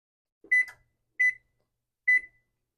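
An electronic kitchen timer being set while chocolate cake icing simmers on the stove: three short, clear high-pitched beeps spaced evenly apart, close and alone in otherwise silent surroundings.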